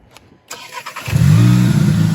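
A turbocharged engine in a 2020 Jetta GLI fitted with an APR intake cranks and catches after a few clicks and rattles, then settles into a loud, rough idle with slight rises in revs.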